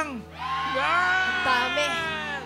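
An audience at a live show shouts and cheers loudly, a sustained crowd roar with whoops and yells building and holding throughout.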